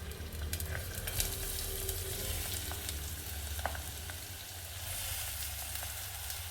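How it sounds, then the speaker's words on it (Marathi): Chopped onion dropped into hot oil for a dal-onion Savji curry, frying over low flame with a continuous close sizzle and occasional soft stirring taps, steady and even, with no voices. "आता आपण हा चिरलेला कांदा टाकत आहोत।"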